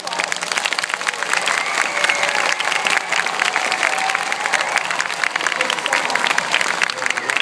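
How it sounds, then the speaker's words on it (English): Audience applause at a live author panel event, steady dense clapping from a crowd that fills the whole stretch at an even, loud level with faint scattered voices underneath. "Let's give them one round of applause."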